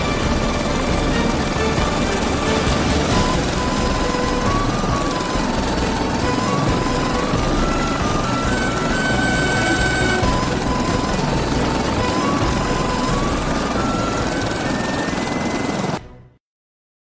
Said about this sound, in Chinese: 启动飞机，走。